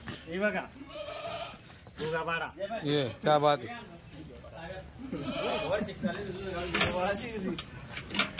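Goats bleat repeatedly, wavering and close by, overlapping with people talking in the background.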